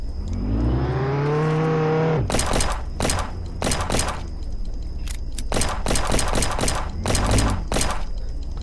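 Video game gunfire aimed at a car comes in several sharp rapid bursts, loud and close, after a car engine revs up and its pitch climbs, with gaps of quieter engine rumble between the volleys.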